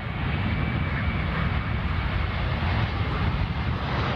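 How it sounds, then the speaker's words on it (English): Airliner engines roaring steadily during a minimum control on ground test on a runway, a loud continuous wash of broadband engine noise with no speech. "the pilot maneuvers down the runway and turns off an engine"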